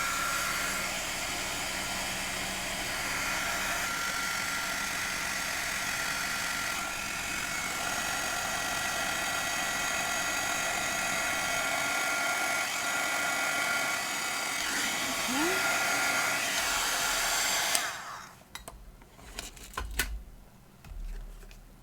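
An embossing heat tool blows steadily while melting embossing powder on a hedgehog birthday card, a continuous broadband whir lasting about eighteen seconds before it cuts off, leaving faint handling noises.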